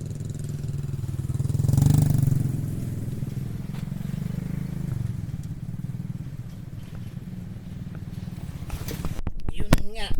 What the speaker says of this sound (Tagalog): Ay nako, merong motor sa likod.